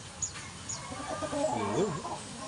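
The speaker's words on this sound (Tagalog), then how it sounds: "Yung manok ni Mr. Black Tiger mga idol" A rooster gives a few clucks and a short throaty call, fairly close and moderately loud over faint background noise, with a couple of brief high chirps early on.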